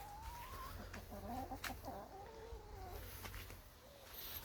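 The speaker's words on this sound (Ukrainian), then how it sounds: "Неділя вечір, але курочки ще ходять, гуляють тут, прогулюються." Chickens walk about a farmyard on an evening, giving soft clucks and drawn-out calls at a moderate distance over a low background rumble.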